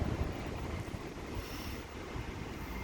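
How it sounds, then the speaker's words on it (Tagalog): Wind blows steadily at an airport parking lot, buffeting the microphone with a broad, rushing roar that stays loud and continuous without any talking. "Ayan, tingnan nyo, mahangin"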